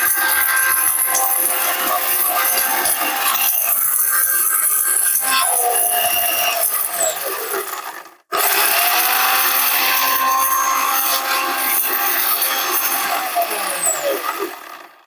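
A 1400 watt blender grinds turmeric: a loud, harsh whining roar with grinding rattle runs continuously, drops off briefly midway, then starts up again at full strength.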